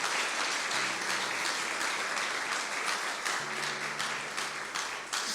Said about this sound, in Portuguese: Bem forte como ele merece ser aplaudido